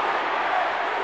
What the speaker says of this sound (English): It's gone in, and the crowd are on their feet.